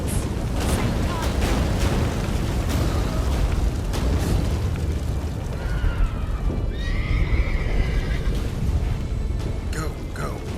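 A horse neighs and gallops with clip-clopping hooves in the fantasy video game The Witcher 3 during a final battle, with loud booms and shouting voices over a dense, rumbling mix.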